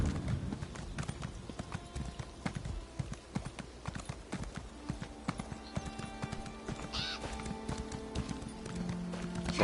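Rapid clip-clop of horse hooves galloping steadily throughout in an Elder Scrolls video game, with a brief whinny partway and a constant background hum.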